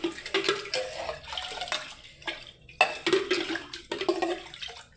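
Brass pots being rinsed and scrubbed with water, with splashing and pouring in short irregular bursts and occasional metallic clinks, close by and fairly quiet.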